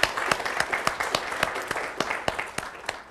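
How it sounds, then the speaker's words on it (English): A small free-software conference audience gives newcomers a brief round of applause: a thin patter of individual claps with distinct sharp hits spaced through the clip, plus faint room murmur. "Let's give all these people a round of applause."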